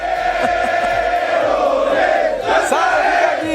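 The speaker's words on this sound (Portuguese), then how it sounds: "a torcida que tá fazendo essa festa inteira atrás de você" Palmeiras supporters fill a stadium with a loud, dense crowd roar and sustained chanting, a continuous festive din with rising swells of voices throughout.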